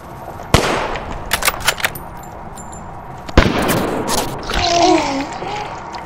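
Sharp sniper rifle shots ring out in the H-Sniper WW2 video game, two sudden loud cracks about three seconds apart with echoing tails and a scatter of smaller clicks and game effects between them.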